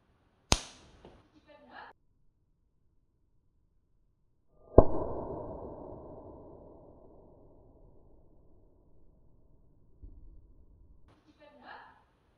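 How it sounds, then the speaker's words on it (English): A fully charged capacitor shorted across its terminals gives a sharp explosive crack that rings out and decays slowly, preceded by a brief click and followed later by faint clatter, in an otherwise quiet room. "when I shorted the two terminals of a fully charged capacitor. Boom, a sharp explosion erupted, loud enough to startle anyone."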